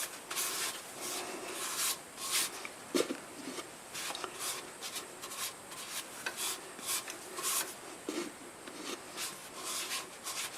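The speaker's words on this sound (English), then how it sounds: "I'm going to move the camera so you can see the outside with the abrasive paste" Abrasive paste polishes the outside of a wood turning as it spins on a lathe, making a soft, continuous rubbing rasp with uneven scratchy swells, close and fairly quiet.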